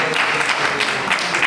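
A church congregation claps hands together in worship, a dense continuous patter of many palms filling the room steadily, with faint voices mixed underneath.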